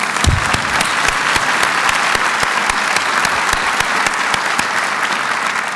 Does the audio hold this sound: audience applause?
yes